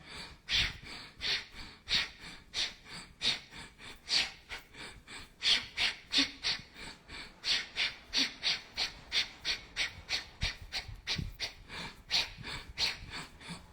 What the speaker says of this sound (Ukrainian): Вдих, видих, вдих, видих.